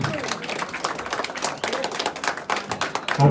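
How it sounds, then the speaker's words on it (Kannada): Crowd clapping at a birthday celebration with a cake cutting, dense overlapping handclaps sustained at close range with a noisy, lively room behind them. "ಎಲ್ಲರೂ ಜೋರ ಚಪ್ಪಾಳೆ ತಟ್ಟೋದು."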